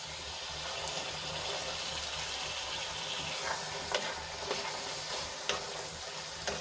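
Green chickpeas added to sautéed tomatoes sizzling in oil in a pan, a low continuous crackle with occasional light clicks of stirring, fairly quiet and without voices.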